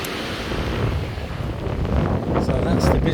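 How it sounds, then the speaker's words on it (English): Ocean surf breaks on a beach at Boa Vista, Cape Verde, a loud, constant roar of waves mixed with gusting wind buffeting the microphone. "But there's always waves,"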